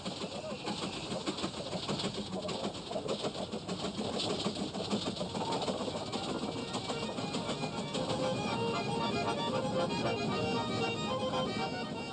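A 1920s-era locomotive on the Rigi mountain railway in Switzerland runs with a steady mid-pitched engine rumble for twelve seconds, moderately distant, with birds chirping in the background.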